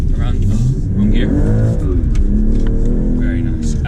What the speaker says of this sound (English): The exhaust does sound good, don't you think, Dylan?